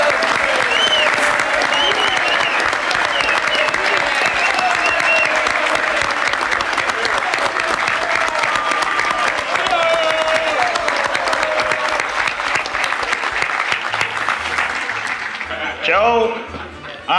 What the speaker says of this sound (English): give our outgoing president, Joseph O. Haggerty, a round of applause